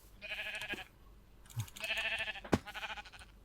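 Sheep in a video game bleat in two drawn-out calls separated by a short pause, moderately loud against a soft background hiss, with a couple of faint thuds between them.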